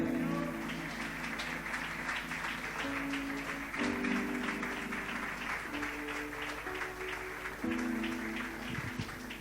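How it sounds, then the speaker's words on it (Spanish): A church congregation applauds after a closing prayer at a service, steady clapping throughout, layered over sustained organ or keyboard chords. "Le damos un fuerte aplauso."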